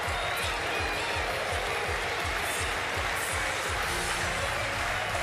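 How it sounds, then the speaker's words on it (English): A stadium crowd at Philippe Chatrier Court applauds the winner of a Paralympic wheelchair tennis women's singles gold match, sustained dense clapping with a rhythmic low thumping throughout, loud and continuous. "Crowd on Philippe Chatrier Court rising to acclaim the champion."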